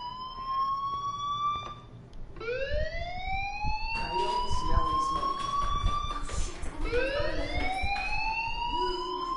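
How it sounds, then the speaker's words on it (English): Fire alarm ringing in the video game Life is Strange, a loud wailing siren rising and falling in repeated sweeps, with voices talking over it throughout. "Hey, do you hear that fire alarm?"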